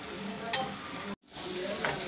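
Ground masala of coconut, onion, spices and peanuts sizzling in oil in a pan, a steady close fry with a brief stir, cut by a short break before the sizzle resumes.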